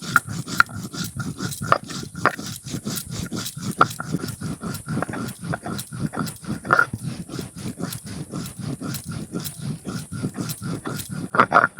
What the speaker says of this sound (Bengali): প্রথমে জিরেটা নিয়ে একটু জল দিয়ে বাটাটা দিয়ে দিই